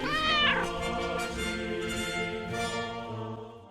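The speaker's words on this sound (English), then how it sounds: "Socks, make America meow again" A cat lets out one long, drawn-out meow, loud and close at the start and then tapering and fading, with no other sounds around it.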